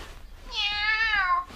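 A person's voice imitates a cat's meow in one long, clear, drawn-out call, rising then gently falling, close and fairly loud.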